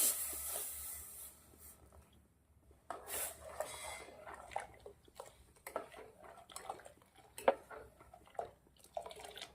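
Two glasses of water pour into a pot of chickpea-flour batter, a soft, quiet splashing and trickling with a few small clinks of the vessel against the pot.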